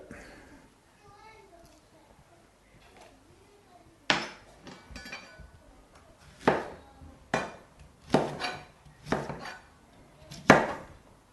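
A paring knife cuts the root out of a vegetable, giving a series of sharp chopping knocks on a board, spaced irregularly and close by after a quieter opening with a voice.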